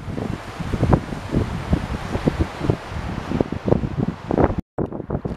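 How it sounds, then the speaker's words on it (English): Wind buffets the microphone high on a century-old bridge above the Delaware River, producing loud irregular low rumbling bursts that are continuous throughout and cut out abruptly near the end. "I do apologize for the wind"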